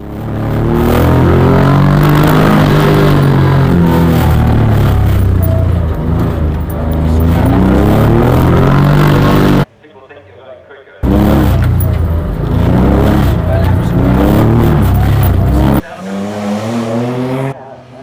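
Onboard a Junior 1000 rally car on a stage at Cadwell Park, the engine roars loud and close, rising and falling through gear changes and cutting out briefly between shots, with a voice talking over it.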